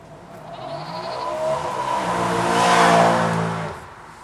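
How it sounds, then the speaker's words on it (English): A motorbike in Farming Simulator 22 screams past, its engine whine rising as it comes close and fading as it goes, loud and alone for a few seconds. "The motorbike screaming past us here."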